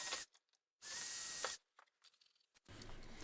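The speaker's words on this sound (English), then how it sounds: "We're going to drill some holes now." A power drill bores holes in a kayak in short close bursts of high whirring, with quiet pauses and faint handling clicks between them before a final run.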